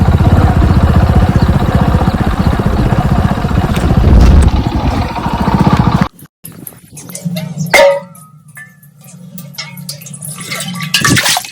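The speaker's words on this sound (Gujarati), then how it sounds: "બુલેટ જો બુલેટ લઈને જવાનું છે" A Royal Enfield Bullet motorcycle rides along farm roads, its thumping engine a loud, dense rhythmic rumble for about six seconds before it cuts to a quieter outdoor scene with scattered knocks and a faint voice.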